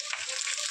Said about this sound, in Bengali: ওইদিকে আলু ভাজা বসিয়েছি